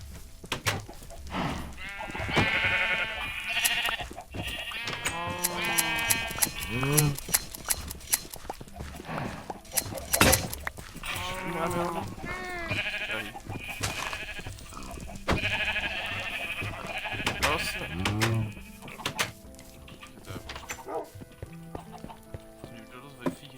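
Repeated sheep bleats in Minecraft, some overlapping, mix with clip-clopping hooves and other game sounds while someone talks over them.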